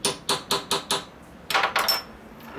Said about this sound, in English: And I'll lightly hit it with a hammer.